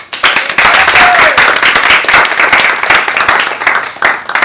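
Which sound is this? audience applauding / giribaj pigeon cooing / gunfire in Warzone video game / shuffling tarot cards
audience applauding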